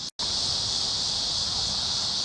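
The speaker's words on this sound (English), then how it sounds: "Those cicadas never shut up." Cicadas buzzing outdoors, a loud, steady high-pitched drone that continues without pause apart from a brief dropout at the start.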